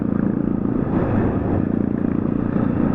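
A 2022 Honda CB300R motorcycle engine drones steadily under throttle with a pulsing, buzzy exhaust note, heard close and continuous.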